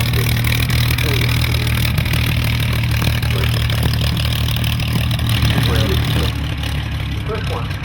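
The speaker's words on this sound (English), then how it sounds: "The P40B landing over on the hard runway." A P-40B fighter's piston engine drones steadily as the aircraft lands on a hard runway, a continuous low rumble heard at a distance under a voice talking throughout.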